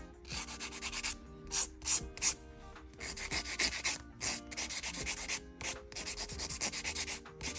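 A buffer rubbed briskly across a natural nail surface to remove shine before polygel, producing a quick rhythmic scratchy sanding with short strokes in bursts and brief pauses, close and fairly quiet.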